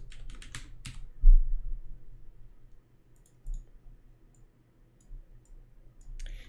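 Typing on a computer keyboard during compositing work: a quick burst of close keystrokes, a heavier thump, then scattered single clicks and key taps separated by quiet gaps, with no talking.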